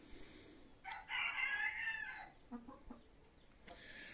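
Hens clucking close by, with a loud drawn-out crow-like squawk followed by a few short, scattered clucks.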